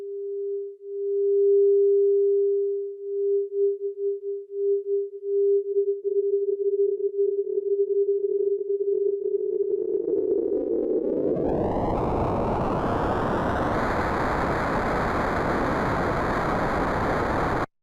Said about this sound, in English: So I'm modulating a sine wave with noise.